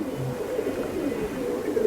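Pigeons kept at a house coo softly and repeatedly in low throaty bursts, close by with no talking.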